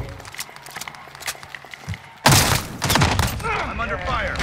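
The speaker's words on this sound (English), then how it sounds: "I'm under fire." Heavy gunfire in Call of Duty Warzone, sparse shots and thuds at first, then a loud burst of dense automatic fire from about midway, with a voice talking over the later part.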